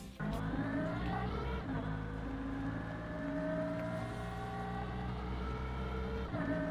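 Engine of a Fortnite car body in the video game, a loud, steady droning motor tone holding for several seconds with no talk, ending in a brief shift near the end.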